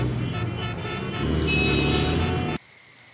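Road traffic rumbles steadily with passing cars and a sustained horn toot, loud and close, before the sound cuts off abruptly near the end.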